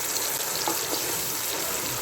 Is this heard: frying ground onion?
yes